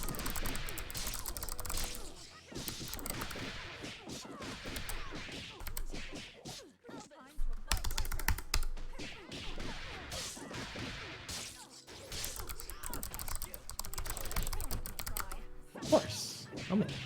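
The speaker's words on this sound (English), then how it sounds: "Keyboard clicking edition?" Computer keyboard keys clicking in quick, irregular bursts close up through most of the stretch, with short gaps, and a voice talking occasionally over them.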